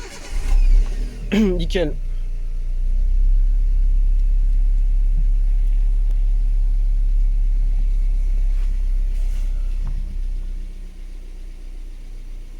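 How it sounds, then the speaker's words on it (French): A Toyota Yaris cranks briefly and fires up after new spark plugs are fitted, then settles into a steady, low, close idle rumble; a voice speaks briefly near the start. "on va démarrer le véhicule, et normalement ça devrait démarrer."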